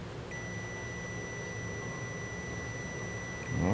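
A multimeter in continuity mode gives a single steady, clear electronic beep while its probes touch a phone circuit board, a Xiaomi Mi 9 that will not power on, holding for about three seconds before a rustle at the end.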